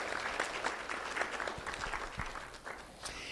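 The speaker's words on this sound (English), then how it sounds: "let's have a round of applause for our principal sponsors" An indoor audience applauds sponsors at a student awards ceremony, dense steady clapping from a moderate-sized crowd lasting a few seconds, heard somewhat distant and without talk.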